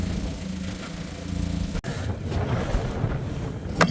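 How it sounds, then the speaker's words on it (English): Strong outdoor wind buffets the microphone in a continuous loud rumble and roar, with a brief dropout midway, while water tanks are being moved and strapped down. "It's really windy."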